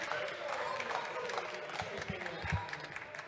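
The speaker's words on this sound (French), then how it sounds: "Applaudissez, soyez fiers de vous." Members of the French National Assembly applaud during a parliamentary debate on bullfighting, a crowd's steady clapping spread through the chamber with a few louder, closer claps and murmured voices underneath.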